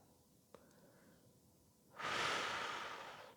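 A single long, loud breath out during a back stretch, a broad airy rush lasting over a second after a quiet pause with one small click earlier.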